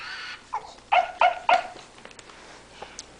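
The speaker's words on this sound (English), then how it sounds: "Oh, the doggy's crying because you pulled him over." Toy puppy whimpering and yipping after being knocked over, a few short whiny cries in quick succession, fairly close and alone with no talk.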